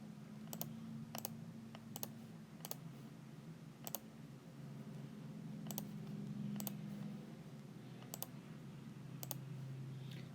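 Faint, sharp computer mouse clicks tap out at irregular intervals while someone works through a restaurant point-of-sale system, about a dozen quiet clicks over a steady low hum.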